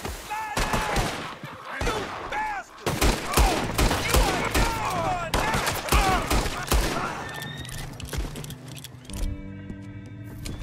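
Rapid bursts of gunfire in Red Dead Redemption 2, a dense fusillade of overlapping shots that rings out for most of the stretch, then gives way to quieter rattling toward the end.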